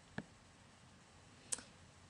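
Computer mouse clicked twice, two faint, sharp, isolated clicks about a second and a half apart against a quiet background.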